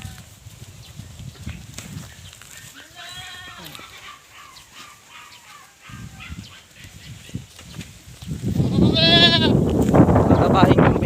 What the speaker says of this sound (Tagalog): yung bagong nakuha natin na kambing